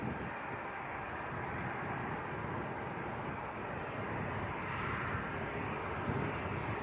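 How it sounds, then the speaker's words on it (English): An aircraft taxis at Leeds Bradford Airport, heard as a faint, distant, steady jet engine roar with a broad whooshing hiss that holds level throughout. "I think this next aircraft's about ready to taxi out."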